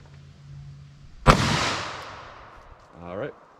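One sharp .357 Magnum handload fired with an XTP bullet into ballistic gel cracks loudly at close range, its report decaying over about a second into a rolling tail, after which a voice briefly speaks.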